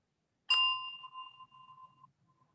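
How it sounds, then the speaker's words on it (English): A single meditation bell struck once, a clear ringing tone with a bright attack that sustains and slowly fades over about a second and a half in quiet surroundings. "When you hear the sound of the bell, just slowly open your eyes and come back to the room."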